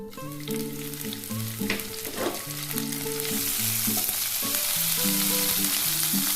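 Black cumin and green chillies hit hot oil for an aloo bhujia, giving a steady, close sizzle that grows denser and louder toward the end, with light clinks of a spoon against the pan throughout.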